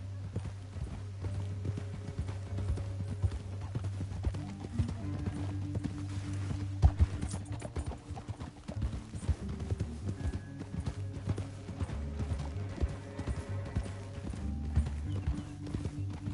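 Steady clip-clop of galloping horse hooves in Red Dead Redemption 2, close and continuous, layered over a sustained background music score.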